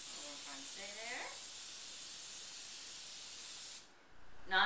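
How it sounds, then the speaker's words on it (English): Non-fat butter-flavored cooking spray hisses from a can into a muffin tin in a steady, close burst lasting several seconds. Someone speaks softly over it before the spray stops. "Non-fat, butter-flavored spray."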